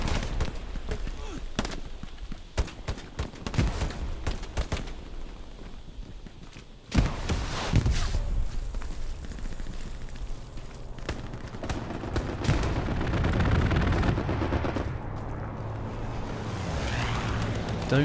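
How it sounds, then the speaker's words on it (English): Incoming grenades, rockets and gunfire in the World War II game Hell Let Loose, with bursts of shots and heavy booms, a big blast in the middle and a rumbling battle bed, with voices talking over it. "we got grenades, rockets, everything coming in"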